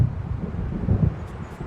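Stormy weather in the game Alan Wake Remastered: a low, steady rumble of wind and distant thunder rolls on without pause and with no talk, near and moderately loud, with brief faint hiss-like whooshes toward the end.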